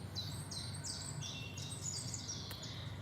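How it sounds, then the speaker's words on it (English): Several birds chirp and tweet in repeated short high calls in the background, faint and steady over a low ambient hum, with no talking. "let me know in the chat if you can hear the bird sounds in the background"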